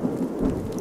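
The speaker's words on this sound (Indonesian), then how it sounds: "Di luar, di bawah rintik hujan yang begitu deras" Heavy rain with rolling thunder behind horror story narration, a dense wash of rainfall under a low rumble, fairly quiet and brief.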